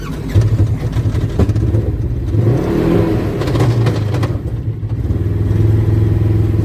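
A car engine revs as the driver presses the gas pedal, a low, rough mechanical rumble that swells and eases in uneven surges over several seconds.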